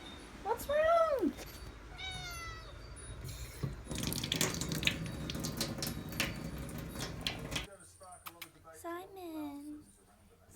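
A cat meows repeatedly from inside a sink while the water tap runs, the rising and falling cries close and clear, joined by a steady gush of water; a person speaks to the cat in between.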